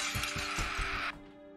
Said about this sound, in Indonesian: Ada suara barang pecah teman-teman nih